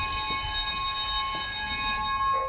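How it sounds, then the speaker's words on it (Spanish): A fire station alarm rings steadily and loudly, a sustained electronic tone with a faint rhythmic pulse running unbroken for a couple of seconds, alone with no voices. "Cuando estábamos a punto de comenzar la entrevista con el capitán de bomberos, la alarma sonó."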